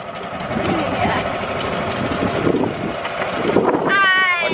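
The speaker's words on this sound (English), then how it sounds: "this is the last golf cart ride before we head home" Golf cart being driven with people aboard, a steady motor and rolling rumble running throughout with a rising whine near the end, under background voices.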